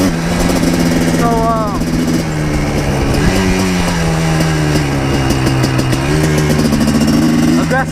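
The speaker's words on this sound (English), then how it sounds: "aggressive downshift, eh?" A Yamaha Blaster 200 ATV's two-stroke engine drones loud and close while riding around a small town, its pitch stepping down through aggressive downshifts with brief revs between gears.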